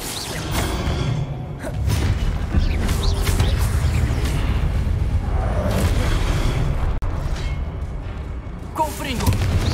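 Incendio fire spell cast in Hogwarts Legacy, heard as a sustained roaring, rumbling blast with scattered crackles and booms that continues throughout the stretch.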